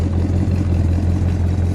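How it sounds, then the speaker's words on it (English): A 1952 Chrysler New Yorker convertible idles through dual exhaust, a steady, loud low rumble with a fast even pulse, close by and alone without voices. "Listen to that idle."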